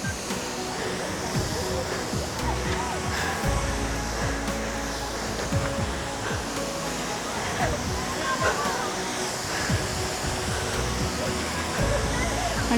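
The Jaibai temple waterfall at Ozarde near Pune pours with a steady broad rush of falling water, and people talk close by over it.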